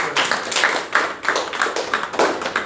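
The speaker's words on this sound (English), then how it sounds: "Can we have a big round of applause for" Applause from an audience at a presentation skills session: a moderate crowd clapping in a steady, fairly loud patter for a few seconds, with no talking.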